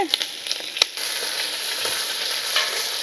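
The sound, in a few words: onion slices, ginger and green chilies frying for upma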